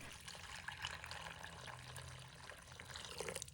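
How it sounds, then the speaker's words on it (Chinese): Warm water poured over dried wood ear mushrooms, heard as a faint, steady trickle and splash that stays quiet and continuous throughout. "接下来，我们先准备一把干木耳，倒入温水，"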